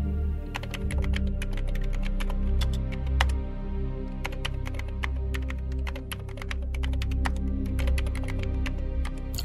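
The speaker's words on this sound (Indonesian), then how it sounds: "kirain Arjuna bakal ngetik panjang, gak taunya cuma ngetik oke doang gitu." Typing on a computer keyboard produces rapid, irregular clusters of crisp key clicks over a steady low background hum, continuing throughout with brief pauses and no voices.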